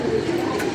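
Pigeons cooing on a rooftop among a flock of about thirty males and one female, a brief close, steady murmur of low coos.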